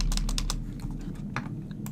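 Computer keyboard typed on in a quick run of crisp clicks, then a few scattered keystrokes, close and clear.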